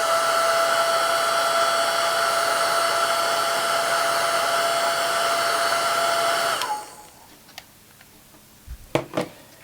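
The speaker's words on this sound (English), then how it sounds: "I'm going to take my dryer and dry that first coat." A hair dryer blows steadily and loudly over a first coat of red paint, then switches off, leaving a few clicks and small handling noises.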